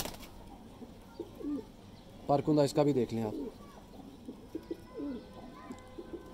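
A Salara Teddy pigeon at a Lahore breeder's loft lets out a burst of throaty cooing in the middle, close and fairly loud, with someone speaking briefly before and after it.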